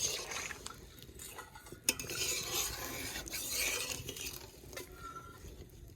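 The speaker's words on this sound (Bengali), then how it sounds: "একটু নাড়া দিয়ে দেখে নেব যে আর জল দেওয়া লাগবে কিনা।" Mutton curry with added water being stirred in a pot, soft liquid swishing and scraping of a spoon against metal, with one sharp clank, quiet and close, no voices.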